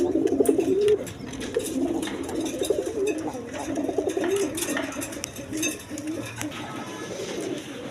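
Pigeons coo at a pigeon farm, low throaty calls rolling on and on close by, with some faint background voices mixed in.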